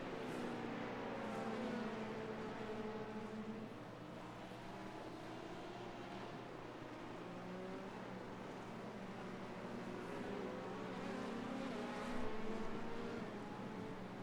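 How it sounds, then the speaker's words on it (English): A Porsche hypercar passing in an IMSA racing game, a sustained engine whine with rising and falling pitch sweeps over a low steady drone, faint and continuous, with no voices. "Porsche hypercar did finally make it by, slowing us down a little bit."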